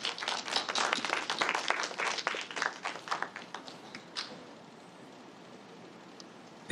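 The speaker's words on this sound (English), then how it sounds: "Let us give a round of applause for Mr." An audience at a Food for Life talk on Cebuano street food applauds the next speaker, a crowd of hands clapping densely for about four seconds before the sound thins and fades into quiet room tone.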